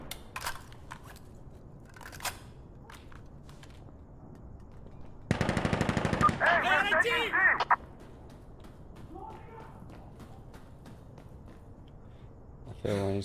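A rapid burst of video game gunfire, loud and close for about two seconds, stands out among scattered isolated clicks and shots. Faint talk is heard around it.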